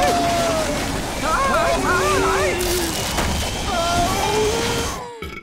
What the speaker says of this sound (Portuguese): Vamos dar a descarga.